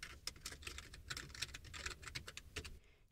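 A search query is typed on a computer keyboard, rapid irregular clicks of keys close by and fairly quiet, with short pauses between bursts and a stop near the end.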